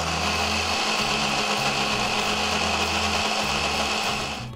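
A blender grinds soaked moong dal with a spoonful of curd into idli batter, a loud, steady whirring motor running continuously with a low pulsing churn, then tapering off slightly at the end.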